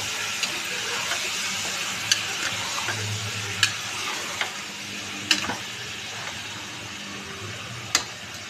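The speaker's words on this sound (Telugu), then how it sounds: "మటన్ వేసేద్దాం. వెంటనే వేసుకున్నా ఏం పర్వాలేదా. కొంచెం ఒకసారి కలుపుదాం." Mutton fries in oil in a pan for chiguru mutton curry, a steady close sizzle with a few sharp taps of a spoon against the pan as it is stirred, no one speaking.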